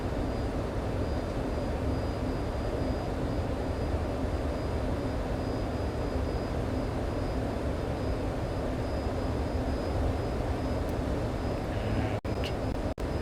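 Grumman F-14 Tomcat jet on full afterburner during takeoff in Microsoft Flight Simulator, a constant loud broadband roar with a thin high whine, unbroken for the whole stretch before two sharp cuts at the end.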